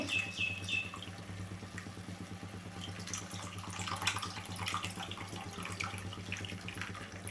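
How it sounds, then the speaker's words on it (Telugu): Water poured into a simmering bitter gourd and tamarind gravy in a home kitchen, a steady close trickle and splash running throughout with a faint bird chirp near the start. "గ్రేవీకి సరిపడా వాటర్ అయితే పోసుకుందాము నేనైతే ఒక గ్లాస్ నిండుగానైతే పోస్తున్నానండి"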